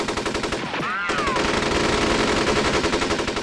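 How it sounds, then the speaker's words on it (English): An MG34 machine gun fires in rapid, evenly spaced bursts in the WW2 strategy game Steel Panthers, with a whistling shell passing near the start and no talk over it. "I'm going to direct some MG34 fire over here."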